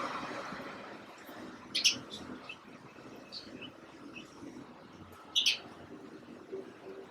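House sparrows give two brief bright chirps a few seconds apart, near but soft, over a quiet background hum.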